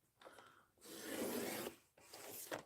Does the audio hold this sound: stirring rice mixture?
no